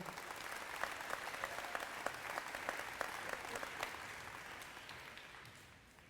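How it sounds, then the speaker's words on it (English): Audience at a West End School girls' program grand opening in Louisville gives a sustained round of applause, dense clapping filling the room and slowly tapering toward the end. "So let's give him a big round of applause as well."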